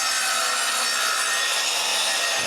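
A handsaw cuts straight across a wooden board for a firewood shed at a cabin, producing continuous close, loud raspy strokes that blend into one steady grinding rasp with no talking.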